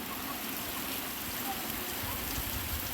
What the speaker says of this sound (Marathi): बाहेर एकदम मस्त की पाऊस पडतो बघा, बघू शकता पावसाची धारा